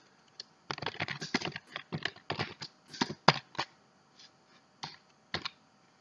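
Close, crisp typing on a computer keyboard while entering text for a circuit board's silkscreen layer, with bursts of rapid keystrokes separated by brief pauses and a few isolated taps.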